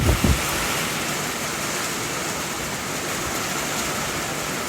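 Steady rain pours down on trees outdoors at a farm during windy weather, a dense, even hiss with a couple of brief knocks at the start and no voices.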